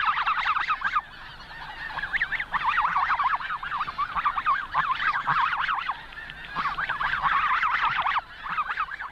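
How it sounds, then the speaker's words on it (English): Wild snow geese honk insistently to one another in a dense, overlapping chorus of rising and falling calls, steady and fairly close throughout with no voices. "In the background, the wild geese talk insistently to each other"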